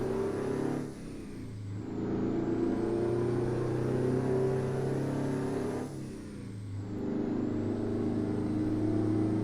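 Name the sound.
two-stroke truck engine revving, from video game American Truck Simulator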